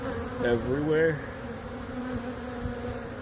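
Bees buzz densely and continuously around a cleaned-out hive site in a roof, a close insect drone with someone briefly speaking over it.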